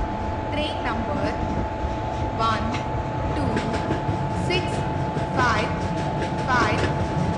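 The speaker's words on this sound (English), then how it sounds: "Rajdhani Superfast Express is arriving at platform number 2." A video game train rumbles steadily into a station platform with a constant low roar and a steady hum, while brief chirping tones flicker above it.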